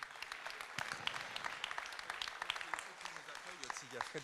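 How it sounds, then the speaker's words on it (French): A crowd claps steadily throughout, a dense patter of applause with a few voices and cheers mixed in. "je vous demande de les applaudir"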